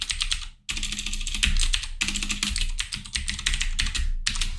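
Fingers type an email address and password on a computer keyboard: quick, close, continuous key clicks with one brief pause.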